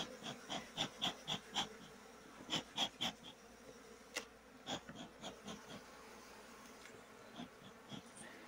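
Bees buzz around an opened hive during a honey harvest, heard as a faint, uneven series of short buzzing passes that swell and fade as individual bees fly near, without talking.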